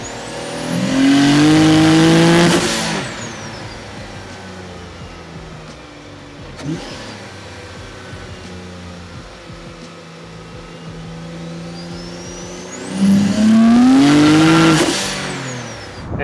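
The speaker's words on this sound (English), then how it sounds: "It just makes cooler noises than a factory turbo car." A turbocharged Honda V6 car revs hard twice, each pull rising loud and close and then falling, with engine drone and turbo whoosh carrying on between the bursts.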